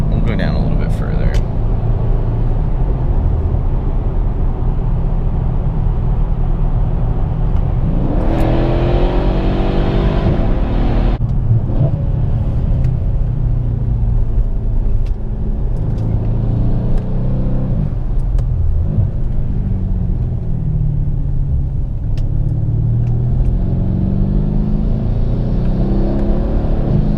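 A Mercedes-Benz W212 E63 AMG accelerates in Sport Plus, its engine roaring steadily with turbo intake whoosh rising and falling through shifts, heard from inside the car over a constant low rumble.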